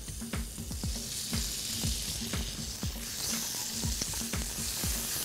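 Steak frying in a little oil in a hot pan, with a steady loud sizzle throughout and repeated scraping, stirring knocks against the pan.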